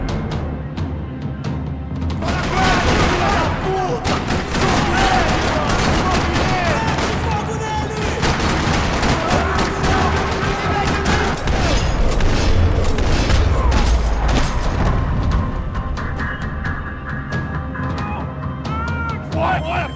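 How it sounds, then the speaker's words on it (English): Heavy gunfire in a parking lot in the video game Max Payne 3: continuous rapid bursts and booming shots over a tense game soundtrack, loud and close, with occasional voices mixed in. "Another parking lot rattling with gunfire."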